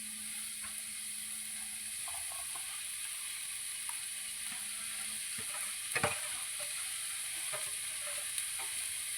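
Corn kernels sizzle in hot butter for makai chevdo, a soft steady fry with occasional clicks of stirring, no voices over it.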